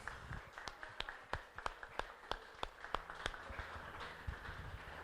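A church congregation claps during a worship service, giving a round of applause to Jesus; a run of distinct, sharp, evenly paced claps rings out over a quiet room, fading toward the end.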